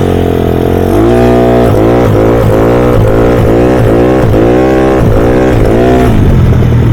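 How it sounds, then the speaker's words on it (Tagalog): A Yamaha Mio 160cc scooter engine revs very loudly and close during wheelie practice, rising and falling in quick repeated bursts of throttle over a steady idle drone. "Maingay lang yung motor natin, nakakahiya."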